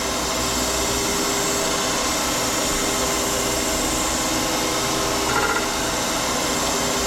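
A crankshaft grinder works on a small block Chevy crank, giving a continuous close whirring grind with an even hiss that holds steady throughout.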